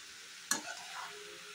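Bathua greens with bean seeds and black cumin being stirred in a frying pan: one sharp scrape of the spatula, then a quiet, steady sizzle of frying underneath.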